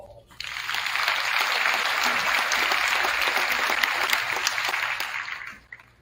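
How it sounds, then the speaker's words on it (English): Graduation audience breaking into applause, a dense wash of many hands clapping that swells quickly, holds steady for several seconds, then fades out. "Give them a round of applause."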